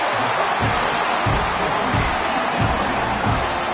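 A stadium crowd roars in a college football video game at an Ohio State Buckeyes game, a loud, unbroken wash of noise that holds steady throughout.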